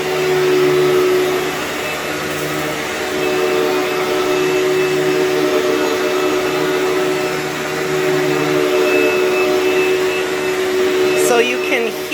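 A Panasonic MC-V5248 Performance Plus Platinum upright vacuum cleaner motor runs steadily and loudly close by, a continuous whine with a slight change in pitch near the end.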